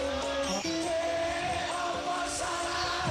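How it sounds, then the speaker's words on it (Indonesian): A loud snail-style horn on a custom Honda street cub motorcycle blares in a harsh, buzzy continuous tone with a brief dip in pitch early on, sounding close and sustained throughout. "Kita coba yang sistem klakson keong ini bunyinya kayak apa"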